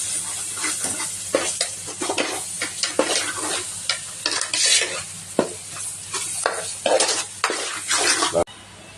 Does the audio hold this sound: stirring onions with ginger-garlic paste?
yes